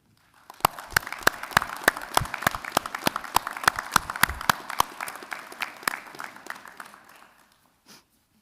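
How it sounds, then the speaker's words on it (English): An audience at a police academy graduation claps, starting as loud, distinct individual claps that build into a rhythmic round and then taper off, followed by a brief faint noise near the end. "please join me in a well-deserved round of applause"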